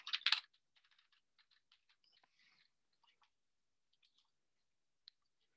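Quiet clicks of typing on a computer keyboard start with a brief burst, then thin out into scattered soft taps and a lone click near the end, with no talk.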